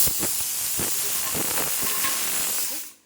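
A pressure cooker boiling potatoes lets out a loud, steady hiss of escaping steam close by, with faint clatters underneath, before cutting off sharply near the end.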